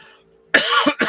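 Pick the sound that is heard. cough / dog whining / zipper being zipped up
cough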